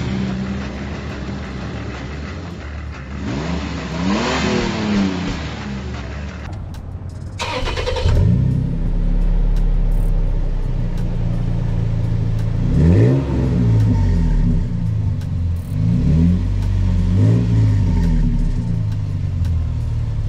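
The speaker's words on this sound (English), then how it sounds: "And then with the exhaust that's on here as well, we'll show you a clip of the before sound and then what the after sound is." Toyota Tacoma pickup with a Flowmaster exhaust revving repeatedly, each throttle blip rising and falling in a deep rumble, close by, with a shop's background noise and a brief cut partway through.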